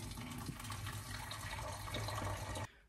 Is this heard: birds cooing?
no